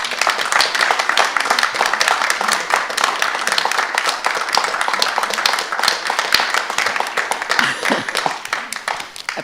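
An audience applauds at a Christchurch City Council ordinary meeting, a dense, sustained round of clapping from many hands that carries on at even loudness and tapers slightly at the end.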